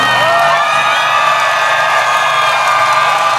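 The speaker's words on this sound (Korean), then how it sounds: "우리 잘하나 안 하나 박수 소리 크게 따라 제가 판단 한번 해보겠습니다" A large crowd at a political rally in Daejeon, South Korea, cheers and shouts in one loud, continuous roar that stays close and unbroken, with no single voice standing out.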